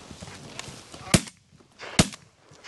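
Two sharp, loud shotgun blasts at geese, roughly a second apart outdoors during a hunt, each with a brief echoing tail, over faint background noise.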